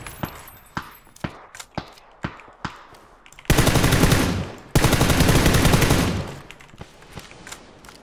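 M4 rifle fire in the PUBG video game: a run of spaced single shots, then two long dense bursts of rapid automatic fire, loud and close, followed by a few more scattered shots.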